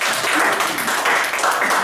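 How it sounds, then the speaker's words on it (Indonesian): An audience claps for a speaker at an insurance company gathering, a loud continuous patter of many hands that holds steady throughout. "Tepuk tangan dulu."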